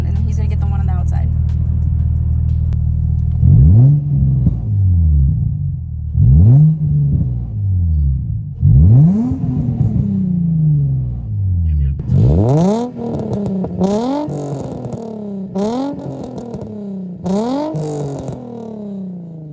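An Infiniti G35 with a new aftermarket exhaust revs hard again and again, each throttle blip rising and falling in pitch over a steady idle, with sharper, quicker rev bursts near the end and voices heard among them.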